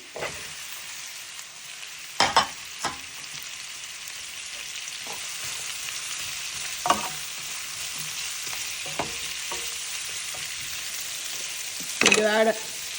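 Shrimp frying in a pan with onion added partway through, a continuous gentle sizzle under scattered louder clanks and scrapes of a utensil stirring, with a faint voice at moments.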